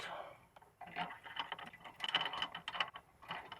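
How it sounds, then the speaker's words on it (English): A ratchet wrench with a 13mm socket tightening bolts on a truck bed accessory mounting block, making quiet, close, rapid clicking bursts in uneven runs. "And then the bolts are tightened with a 13mm."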